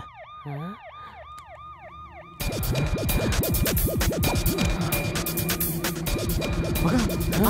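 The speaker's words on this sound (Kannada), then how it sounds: "ಏ ಆ ಸೈರನ್ ಆಫ್ ಮಾಡೋ" A wailing emergency siren in a film scene, starting as a clear rising-falling wail, then joined at about 2.4 seconds by a louder, denser layer of overlapping siren sweeps and traffic noise that continues strongly to the end.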